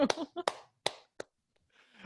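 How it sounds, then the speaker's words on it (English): One person clapping hands alone, a handful of sharp, uneven claps spaced across a brief moment, close and fairly quiet, with a soft voice murmuring at the end. "So I'm just going to clap for you."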